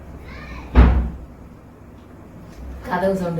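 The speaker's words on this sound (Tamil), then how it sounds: "கதவு சவுண்டு கேக்குது, வாராங்க நினைக்கிறேன்." An indoor door bangs once as it opens, a sharp thump with a short rattle, with a person speaking briefly just before it and again right after.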